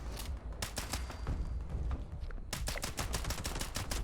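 Rapid, continuous gunfire in a video game, dense bursts of automatic shots overlapping in a steady clatter, loud and close throughout with no voices.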